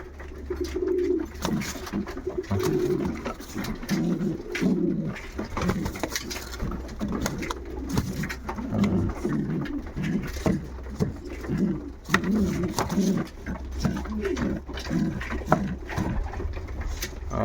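Pigeons coo continuously nearby in a pigeon loft in low, rhythmic, overlapping calls, with soft rustling and shuffling in the background.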